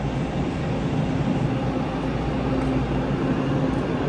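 Toronto streetcar at Spadina, a steady, dense rumble and rolling rail noise, loud and continuous with no distinct events.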